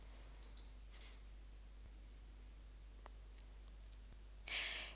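A computer mouse gives two sharp quick clicks close up against a quiet steady hum, followed by a faint click later and a brief rustle at the end.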